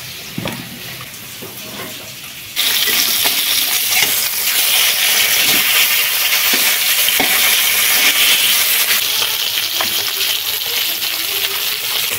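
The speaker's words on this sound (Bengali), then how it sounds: "মাছগুলো সব ভাজা হয়ে গেছে, এবারে অল্প একটু মাছ ভাজার তেল রয়ে গেছে" Freshly caught river fish frying in oil in a home kitchen; after a quieter start, a loud, steady sizzle begins abruptly and continues, with occasional stirring clinks and scrapes on the pan.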